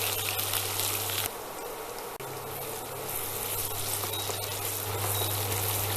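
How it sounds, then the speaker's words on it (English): Sliced onions frying in a pan, with a steady, close sizzle and crackle throughout and a constant low hum underneath, alone with no talking. "add in the sliced onion next. Cook till light brown in color."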